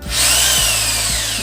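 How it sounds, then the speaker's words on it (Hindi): An Ingco rotary hammer drill runs steadily under load, a loud continuous whine with a rapid hammering buzz and faint periodic knocks, no talking. "जैसे मशीन ड्रिलिंग कर रही है"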